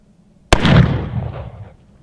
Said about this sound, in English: we're gonna take a few more pot shots here with it. Shooting black powder